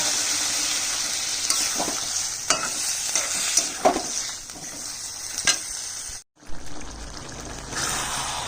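Sizzling curry with malabar spinach, potato, eggplant, pumpkin and prawns being stirred in a pan as water is poured in, a steady frying hiss with clicks and scrapes of the utensil, a brief silence, then the sizzle returns.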